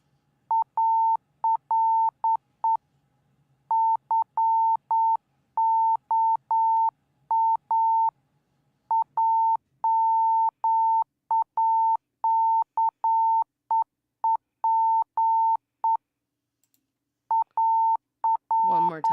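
A single steady electronic tone beeps Morse code from a flashing light, a long sequence of short and long pulses in irregular groups separated by brief gaps, clean and alone until a faint noise at the end.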